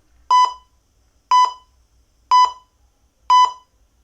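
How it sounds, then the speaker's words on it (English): An electronic timer beeps four times at steady one-second intervals, each a short, loud, bright tone standing alone in otherwise quiet surroundings. "Sorry, timer."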